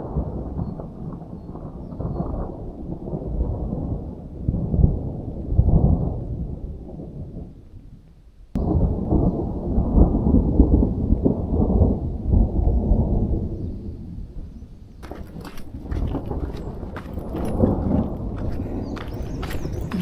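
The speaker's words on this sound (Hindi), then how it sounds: "भाई बादल गरज है बहुत तेज की" Long, deep rolls of thunder in a village in Uttarakhand rumble loudly and continuously, briefly breaking off, then returning with a crackling, rain-like hiss over the final stretch.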